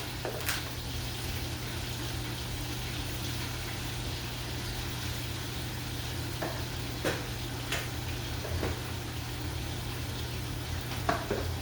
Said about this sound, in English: The meat just has to be brown on both sides